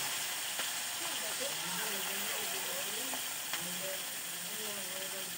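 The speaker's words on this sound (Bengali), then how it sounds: "কাঁচা লঙ্কা ছেড়ে খুন্তি দিয়ে নাড়াচাড়া করে নিলাম" Green chillies sizzle in hot oil as a spatula stirs them, a steady hiss with occasional scrapes, while a soft voice talks faintly over the cooking.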